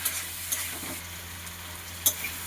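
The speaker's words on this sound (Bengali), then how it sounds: "পটল আর আলু ভেজে রাখাটা দিয়ে ভালো করে কষিয়ে নিতে হবে।" Fried pointed gourd and potato being stir-fried in a pan with pumpkin, heard as a steady close sizzle with a few sharp spoon clinks against the pan and faint scraping, with no speech.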